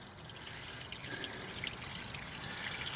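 Motor oil draining from the drain plug of a 2011 Mazda 3 during an oil change, a steady close pouring and trickling stream with a slight rise in flow partway through, with no talking.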